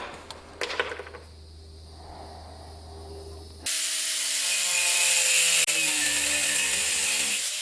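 A power tool starts with a loud, steady whine and grinding hiss, cutting through deer antler, running continuously after a few light scraping sounds, with no voices.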